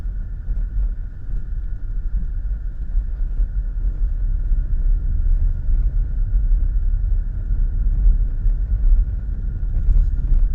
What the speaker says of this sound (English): Can you hear that vibration? Yeah, there's something loose in the car